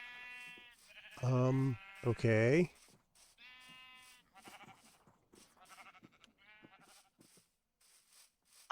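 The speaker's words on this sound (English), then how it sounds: "Hear a lot of sheep." Several sheep bleat in Minecraft, two loud close bleats followed by fainter repeated bleats, with people talking over and between them.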